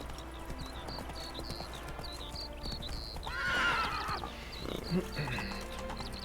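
Horse in The Witcher 3 video game, with rhythmic clip-clop hoofbeats and a loud neigh partway through, over steady game background sound.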